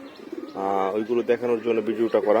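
Several guest pigeons coo at a house in steady, close rounded calls, with someone talking over them throughout.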